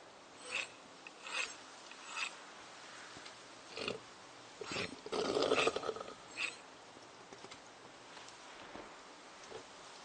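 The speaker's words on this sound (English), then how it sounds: "So there's the sharpen effect. I just tapped R while standing still, and she started sharpening." In the Project Zomboid video game a character sharpens a blade, giving several short rasping scrapes at irregular intervals, with a louder grinding burst midway, all faint against a quiet background.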